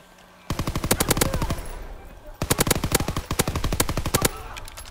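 Rapid automatic gunfire in a Call of Duty video game: two long bursts of evenly spaced, crisp shots, loud and close, separated by a brief pause, with steady game ambience underneath.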